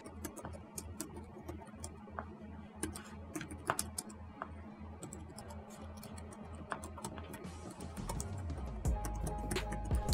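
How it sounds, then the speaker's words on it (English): Keys clack on the non-mechanical keyboard of a Dell G5 gaming laptop in a fast, irregular stream of close, crisp taps, with a low rumble and heavier knocks building near the end. "It's not a mechanical keyboard, mind you, but the keys aren't overly mushy and have a nice sound signature."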